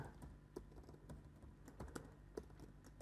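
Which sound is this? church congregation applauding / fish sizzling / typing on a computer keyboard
typing on a computer keyboard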